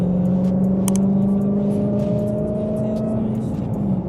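A Dodge Hellcat accelerates while merging onto a highway, its engine a loud, steady drone with a rising tone, heard from inside the car with continuous road noise.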